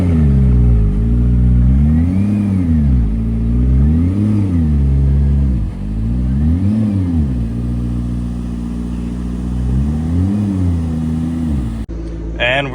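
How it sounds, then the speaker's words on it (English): Low, throaty engine of a McLaren P1 supercar being parked, idling with repeated gentle revs that rise and fall in slow cycles, close and loud throughout, fading briefly near the end. "But parking the P1 with no cameras."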